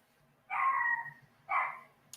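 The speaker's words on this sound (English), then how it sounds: "And the dogs always bark." A dog barks twice, faint and distant, with two short, separate barks spaced about a second apart against a quiet background.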